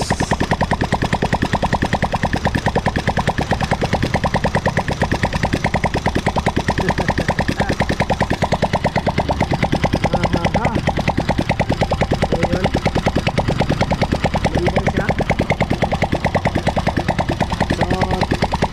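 A refreshed Smash 115 motorcycle engine idles close by with a rapid, even, mechanical chugging pulse that continues without a break.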